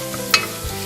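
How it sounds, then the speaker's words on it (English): Chopped onion sautéing in olive oil in a home-kitchen pan, a brief stir with a soft sizzle and one sharp scrape, close and short. "we now add our onion. And we will let that saute for around 5 to 10 minutes"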